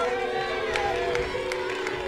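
A crowd at a Little League World Series regional baseball game cheers and murmurs continuously at a moderate distance, with scattered shouts over a steady wash of noise.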